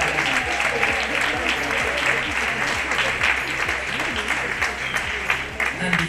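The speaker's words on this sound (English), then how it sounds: "please give contestants and Yang and Irene a big round of applause." Audience applause for contestants at the Mrs Gibraltar Classic 2022 pageant show, a loud, sustained round of clapping from a large crowd filling the hall, with some music or voices faintly underneath.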